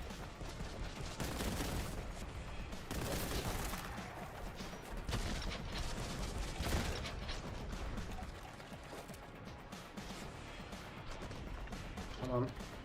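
Enemy gunfire in the shooter game Boltgun, with repeated heavy bursts and mechanical clanks running throughout and a voice talking over the fighting.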